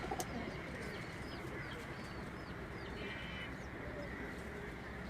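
A pigeon coos softly over a constant outdoor hum, with faint chirps from other birds at a distance and no clear talk.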